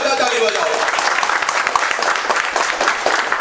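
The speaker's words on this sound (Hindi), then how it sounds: "एक बार दुर्गे सर के जोरदार ताली बजाओ।" A classroom audience applauds a teacher after a computer class session, a burst of many hands clapping, moderately loud, with voices talking over and around the clapping.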